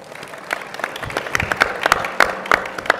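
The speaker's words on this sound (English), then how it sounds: "Give yourselves a big round of applause." An audience at a federal technology forum applauds, scattered individual claps standing out sharply from a lighter, uneven patter of many hands across the room.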